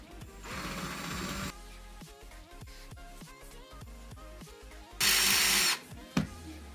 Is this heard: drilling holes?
yes